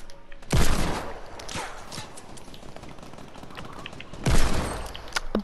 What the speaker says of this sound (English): I'm getting such good hand cannon shots